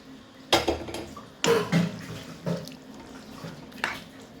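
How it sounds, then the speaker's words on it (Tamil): Water running at a sink while dishes are washed, with splashing bursts of flow and soft clinks of pots and utensils coming in irregular surges, moderately close. "இப்போ பாத்திரம் விளக்க போயிட்டாங்க"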